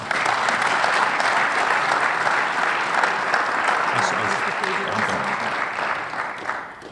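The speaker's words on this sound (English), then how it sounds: "how about a nice round of applause for Trig Krogstad" At the 2018 Otto Graham award ceremony, an audience gives Trig Krogstad a sustained round of applause, thick steady clapping from a full room, with a few voices faintly underneath, tapering slightly at the close.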